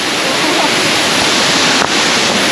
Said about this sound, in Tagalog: Grabe, ang ganda ng falls.